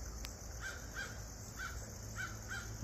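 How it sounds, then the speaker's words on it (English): Several harsh crow caws ring out at spaced intervals over a low outdoor rumble, moderately distant, with no talking, in Appalachian countryside. "Oh, the crows have spotted me."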